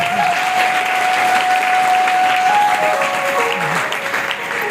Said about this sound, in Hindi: एक बार इनके स्वागत के लिए आप तालियां जरूर दें।